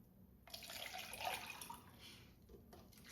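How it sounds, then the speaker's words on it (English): Water poured from a container into kitchen measuring cups, a steady trickling stream starting after a brief quiet moment and running fairly close and soft, with no talking. "I'm going to go ahead and fill in my cups"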